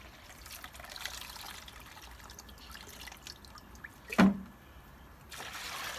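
Water is added to a homemade weed-based plant fertilizer, making a soft, steady trickle and drip throughout, with one brief splashy knock near the end.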